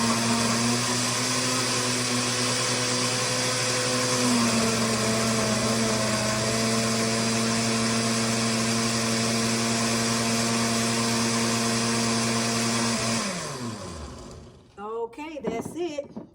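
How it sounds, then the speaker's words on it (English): A blender whirs steadily through a smoothie of baby spinach, strawberries, apple and banana, a loud continuous motor drone that winds down near the end, followed by brief clatter. "I have everything already in the blender, and I just blend it up."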